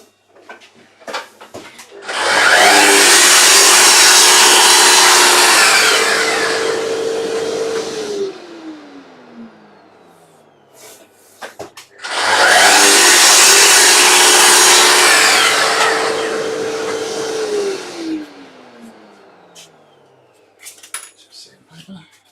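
Wood is sanded by hand to fit a part of an apothecary chest box, with two long, loud abrasive sanding strokes of several seconds each, separated by a pause and small knocks and handling sounds.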